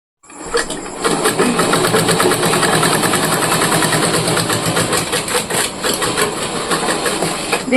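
A sewing machine stitches a bag made from a cement sack, running fast and steady with a dense rapid needle chatter close by that starts after a short pause and continues without talk.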